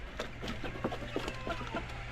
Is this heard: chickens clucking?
yes